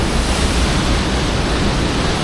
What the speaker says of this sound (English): I thought I'll stop off here on this viewing platform and get a shot of the waterfall itself here.